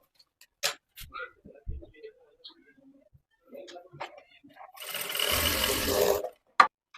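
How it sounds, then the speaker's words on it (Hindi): A sewing machine stitches two blouse panels together with tucks, running in one steady whirring burst of about a second and a half after scattered handling clicks and rustles, close by and fairly loud. "मैं दोनों को एक साथ सिलाई करके दिखाऊंगी, दोनों पल्ले को"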